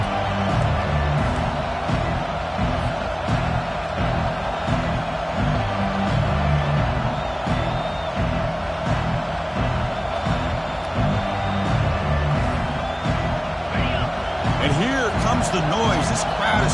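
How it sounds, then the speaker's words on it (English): Football stadium crowd roars steadily through a red-zone defensive stand, a dense, sustained wash of cheering and noise with a commentator's voice running over it. "This crowd is trying to inspire this defense to make a big red zone stop."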